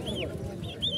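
Ducklings at a village haat in Tarail, Kishoreganj, Bangladesh, giving a few short high peeping calls over a busy murmur of market crowd noise.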